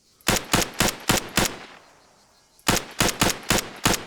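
Short automatic bursts of video game gunfire ring out: five evenly spaced loud shots, a pause, then six more in the same steady rhythm, close and sharp with no talk.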